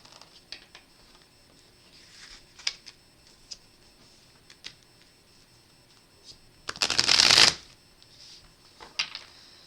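A deck of tarot cards is given a hard riffle shuffle, one loud dense burst of flapping card noise lasting about a second, with scattered soft card taps and handling clicks before and after in a quiet room.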